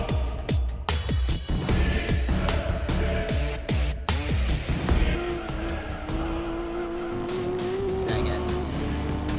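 A race car in Gran Turismo 2 crashes hard, with repeated impact thumps and tire squeal over loud engine noise, then a rising engine whine as it carries on.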